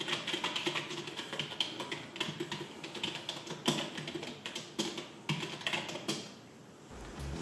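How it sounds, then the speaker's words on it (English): Rapid typing on a Sades Blade Mail membrane gaming keyboard, a dense run of soft, muted key taps close to the microphone that stops near the end. "It's a similar membrane keyboard for comparison."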